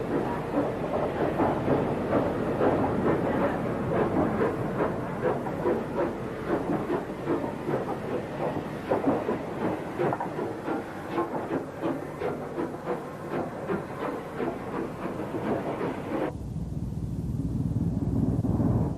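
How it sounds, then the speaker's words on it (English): A Merchant Navy class steam locomotive speeds through Basingstoke with a rapid, rhythmic chuffing over a rumbling roar of wheels and hiss. The sound stays loud and close throughout, then drops sharply into a duller rumble near the end. "Another merchant navy speeding through Basingstoke."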